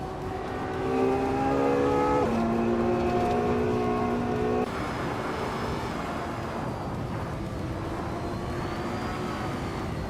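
Engine of a 2015 Ferrari F12 TDF supercar in a racing video game: a strong whine rising in pitch through gear shifts, then a steady, high, droning roar, with no talking.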